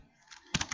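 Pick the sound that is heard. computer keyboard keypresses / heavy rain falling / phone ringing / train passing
computer keyboard keypresses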